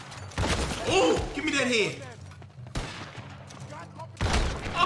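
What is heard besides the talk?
gunfire from video game Red Dead Redemption 2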